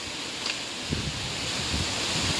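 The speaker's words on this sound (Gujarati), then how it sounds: "પવન બહુ આવે હમણાં" Steady wind rushing with a soft rustle of leaves, broad and even throughout, with a few low gusty thumps against the microphone.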